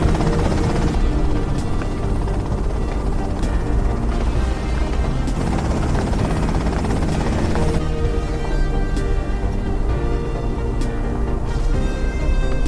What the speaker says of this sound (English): that's them in the chopper